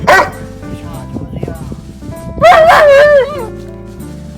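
A large White Swiss Shepherd dog gives a loud, drawn-out whining bark close by, after a short yelp at the start and brief spoken praise.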